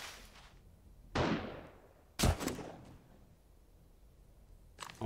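Gunfire in the survival game 7 Days to Die, heard as two sharp, fairly loud shots about a second apart, each trailing into a long echoing decay, with a fainter third report at the very end.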